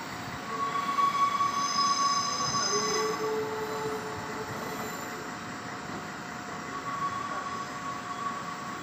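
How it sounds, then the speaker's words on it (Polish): A fast passenger train to Bratislava rolls into Zvolen station with a steady rumble of wheels and thin, high metallic squeals from the brakes, fairly loud then easing off. "Wjeżdża pociąg"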